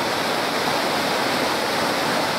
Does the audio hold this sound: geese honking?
no